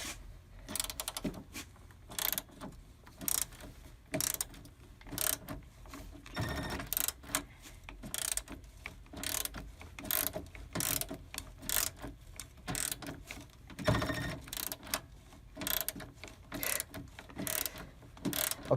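Ratchet working bolts free from the coolant flow control valve on a 2004-2009 Toyota Prius Gen II, close rapid clicking bursts in irregular rhythm with pauses and occasional heavier clunks.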